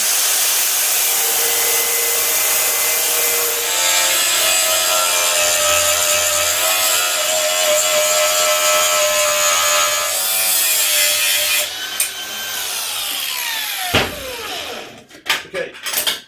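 Steady, loud cutting of a 10mm steel gusset for an engine stand runs for about fourteen seconds with a high ringing edge, then stops abruptly and is followed by a few clanks and handling noises.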